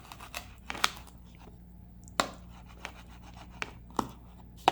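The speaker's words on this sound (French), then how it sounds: "on va couper un demi-banane avec le couteau" A knife slices a banana in half on a hard surface, giving a few faint, scattered taps and clicks of blade against board over a quiet room tone.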